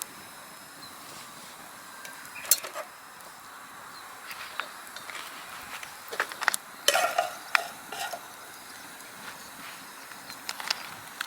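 Bacon stir-fried in a pan over a campfire: a soft sizzle runs under sharp, irregular clinks and scrapes of a utensil against the pan, with a few louder clusters of knocks partway through.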